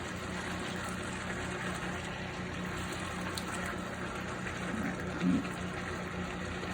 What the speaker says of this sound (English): I think we got a pretty good boil going, at least in the middle.